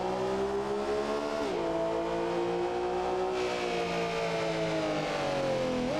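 A Porsche GT3 RS engine screams at full throttle around Spa-Francorchamps, with loud, dense harmonic howls rising steadily through the gears and two sharp upshift dips.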